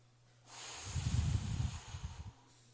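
A congregation breathes out together during a church sermon, a soft, breathy rush that swells after a quiet pause, flutters unevenly for nearly two seconds and then fades.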